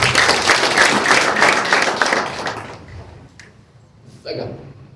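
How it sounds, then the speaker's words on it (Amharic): Applause from a church congregation during a donation announcement: dense clapping for a couple of seconds, then tapering away into scattered claps and a faint voice. "ቤታችን ቤትነሽ 500 ብር አጨብጭቡላት"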